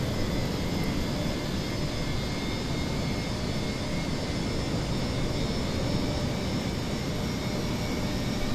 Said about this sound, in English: There's engine number 2 starting.